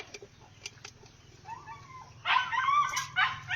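Pet dogs bark and yip near a kitchen on a farm, a few sharp barks early and a louder cluster of barking and whining toward the end over a low background hum.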